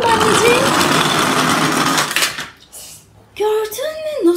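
Toy cars and a toy concrete mixer tumble into a toy pool with a loud, rattling clatter of plastic and a splashy wash of noise. A voice cries out over the tail end.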